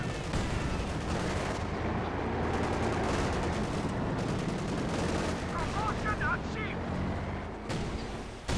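Dense gunfire and explosions in a Company of Heroes 2 one-versus-one battle, Soviet against OKW forces, rattle continuously under a commentator's voice for the whole stretch.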